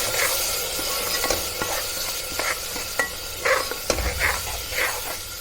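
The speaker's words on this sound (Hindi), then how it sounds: "धनिया जीरा सब डाल के इसको फ्राई करेंगे" Rajma frying in a pan with a paste of coriander, cumin, ginger, garlic and garam masala, heard as a steady soft sizzle broken by scraping stirring strokes and a few clinks close by, with nobody talking.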